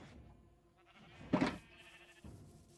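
A single bleat from a pink sheep in a video game, a short loud burst in the middle of the clip over a quiet background with faint game sounds.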